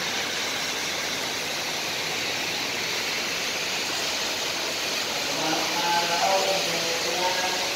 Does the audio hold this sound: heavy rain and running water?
yes